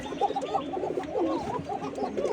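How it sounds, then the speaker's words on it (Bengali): Female pigeons cooing in a loft, a steady run of overlapping low, rolling coos close by with no talk. "এই যে মাদিগুলো ডাকতেছে"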